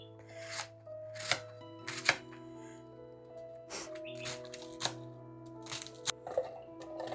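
Vegetables chopped for veg Manchurian, a knife striking a board in irregular sharp chops, close and clear over a low steady hum.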